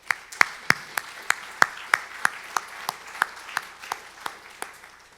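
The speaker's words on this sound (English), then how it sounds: "Let's give them all a round of applause." Audience at an international forum keynote claps in a sparse, evenly spaced rhythm, each sharp clap distinct over a soft hall background and fading slightly toward the end.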